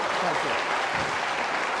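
Snooker crowd at a Ronnie O'Sullivan match bursting into loud, sustained applause with some cheering after a shot, a dense steady roar of clapping filling the whole moment.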